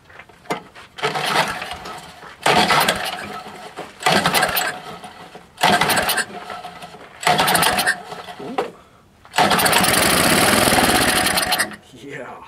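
A Toro 5/24 small engine with the choke on is pulled repeatedly, giving five short bursts of rapid clattering cranking separated by pauses, then a longer loud sputtering run that cuts off; a voice talks at times.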